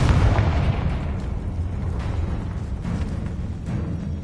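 A Confringo spell explosion in the video game Hogwarts Legacy, a loud, booming blast at the start whose rumble lingers with crackling bursts and debris as it slowly fades.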